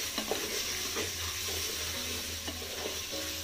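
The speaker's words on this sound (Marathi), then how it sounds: "ते तुपामध्ये घालून चांगलंच मिक्स करायचं आपल्याला" Carrots and other ingredients are stirred into hot ghee in a pan for white pulao, giving a close, steady sizzle with soft spoon scrapes at an unhurried rhythm, no voices.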